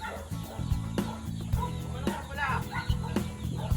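Native chickens cluck and squawk in short, agitated bursts while being chased and caught for cooking, close by and irregular, with scuffling and a faint voice mixed in.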